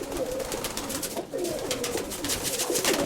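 Pigeons coo steadily and close by for about three seconds, a continuous low murmuring chorus with no talking.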